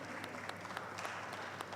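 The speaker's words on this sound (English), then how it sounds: "A round of applause." Applause at a Nigeria Fintech Week 2022 panel, steady and moderately loud for nearly two seconds, with dense continuous clapping and no voices over it.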